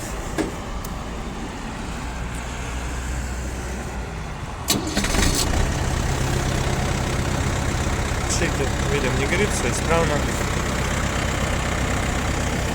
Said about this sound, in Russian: Работает двигатель, очень ровно, так как 4 цилиндра у нас здесь.